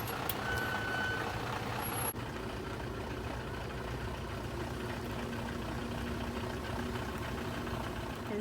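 A house truck manoeuvring close by, its engine rumbling steadily with a faint tone near the start, a brief click around two seconds, then continuous low engine drone throughout.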